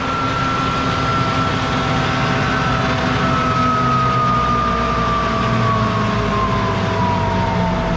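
A fire truck's pump engine throttles down during a daily pump check: a loud, steady mechanical roar with a clear whine that slowly slides lower in pitch over about eight seconds, with no talking.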